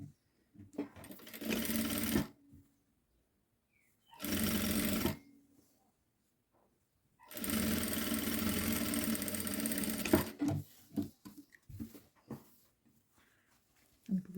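A sewing machine stitches a seam on a boy's children's outfit. Three bursts of rapid mechanical whirring, the last one longest, separated by quiet pauses. Light handling noises follow the final run.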